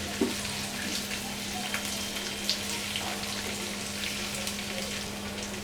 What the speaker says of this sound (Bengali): আমি একটু বেশি ভাজলাম কারণ আমি কোনো রিস্ক নিতে রাজি না